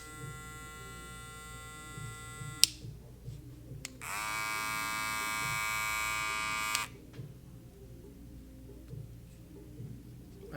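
A Babyliss Pro Rose Gold FX hair clipper switched on for two short runs, giving a steady high electric buzz that starts and stops abruptly, close by over faint background noise.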